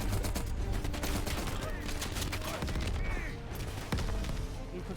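Machine gun fire in the shooter game Black Ops Cold War: dense, continuous automatic bursts, loud and close, barely letting up for the whole stretch, with a voice talking faintly underneath.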